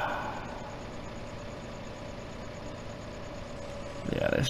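A tractor engine in a farming video game drones steadily as it labours up a hill pulling a trailer, a constant mid-pitched hum that rises and roughens in the final half second.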